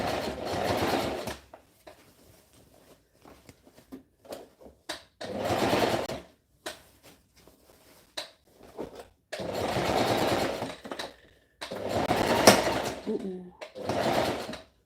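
A sewing machine stitches a v-neck shirt in several short, close bursts of whirring, separated by quiet pauses filled with light clicks and fabric handling.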